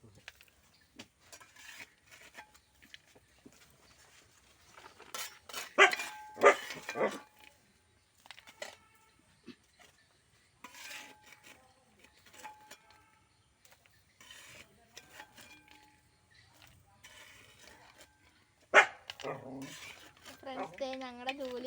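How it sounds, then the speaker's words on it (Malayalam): A household dog barks in short harmonic bursts near a home kitchen where peanuts are being roasted. The loudest barks come late, mixed with pot and utensil clatter and a voice talking. "ഞങ്ങളുടെ ജൂലി എന്ന് പറയുന്ന പട്ടി ഇവിടെ കിടന്ന് ഭയങ്കര കുറയാണ് കേട്ടോ."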